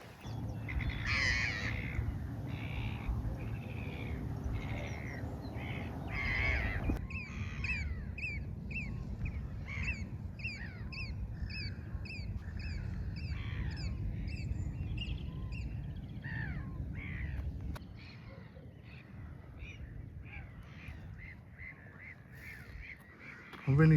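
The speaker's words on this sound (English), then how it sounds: "some of the squawking going on around me here" Crows caw repeatedly from nearby along a riverside walk, harsh calls overlapping in a busy chorus over steady outdoor background noise.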